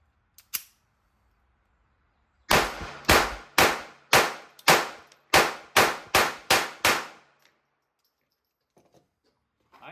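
A Ruger LCP II pistol firing Federal Hammer Down .22LR at a steel target, about ten sharp shots in quick, fairly even succession, each a loud crack with a ringing tail, with a couple of isolated shots before.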